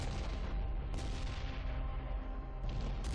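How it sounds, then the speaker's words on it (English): A ship blows up in the space game X3: Albion Prelude, a sustained rumbling blast with crackling bursts that swell and fade over a few seconds, loud and close. "That explosion."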